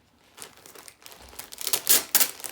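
Wrapping paper crinkles and tears as a New Year gift is unwrapped, quiet rustling that builds into louder sharp crackles near the end, close by.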